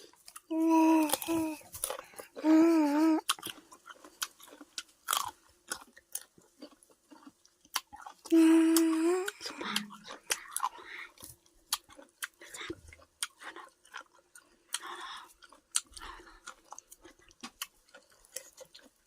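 Crunchy green mango eaten with a roasted jaew dip gives close, wet chewing and crisp bites in uneven bursts, and soft vocal sounds come and go between mouthfuls.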